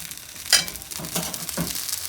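Dosa frying on a hot pan as potato bhaji filling is spooned onto it, a soft steady sizzle with a few brief scraping bursts, close by and without talk.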